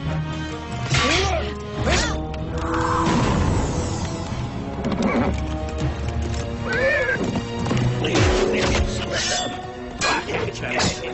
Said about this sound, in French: prends mon cheval!